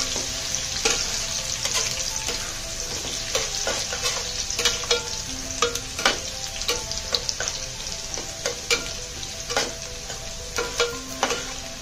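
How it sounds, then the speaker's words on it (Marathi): Small onions fry in oil until reddish for spicy Kolhapuri misal, making a loud, continuous sizzle that is dense with crackles and frequent sharp spatula scrapes against the pan. "कांदा हा जो आहे व्यवस्थित असा लालसर रंगावरती भाजून घ्यायचा आहे"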